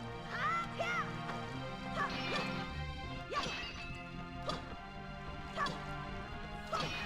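A dog in the background yips, barks and whimpers in a string of short, rising whines and barks, quiet and somewhat distant, during a Wind Waker gaming session.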